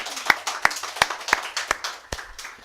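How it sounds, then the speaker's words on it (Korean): Congregation clapping in a church service, a slow rhythm of single sharp claps, about seven or eight, fairly near and moderately loud, with faint murmuring between them. "박수할까요?"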